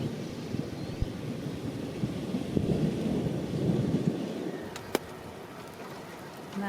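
Low thunder rolls in a long, soft rumble as a storm approaches a beach at Punta Médanos, Argentina, fairly distant and subdued, with a faint crack partway through.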